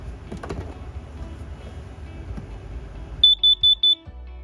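An RV's propane LP gas detector is put through a test, giving four short, loud, evenly spaced electronic beeps. Quieter background rumble comes before them.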